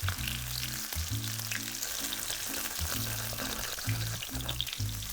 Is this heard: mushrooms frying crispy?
yes